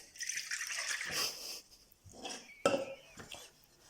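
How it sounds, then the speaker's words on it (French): Water poured into a bowl holding crumbled yeast for hand-made baguette dough, heard as a few short splashing, clinking bursts with pauses between, close and fairly quiet, no talk. "Je mets l'eau."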